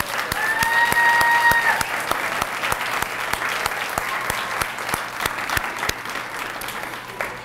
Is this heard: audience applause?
yes